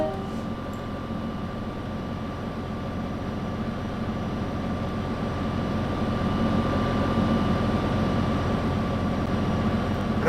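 Class 57 diesel locomotive engine in Train Simulator, a steady low rumbling drone that swells slightly louder partway through, continuous with no talk.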